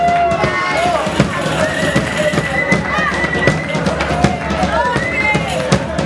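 An audience at a pro-Sahara concert applauds the band with loud, dense, continuous clapping, and voices rise above the crowd.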